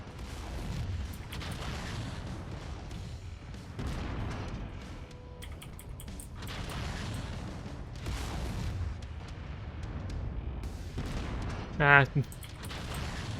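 Mech autocannon fire in MechWarrior 5, repeated heavy booming shots rolling through a dense, rumbling battle din at moderate loudness, with a sharp higher whine near the end.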